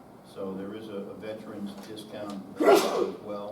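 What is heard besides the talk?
sneeze in meeting room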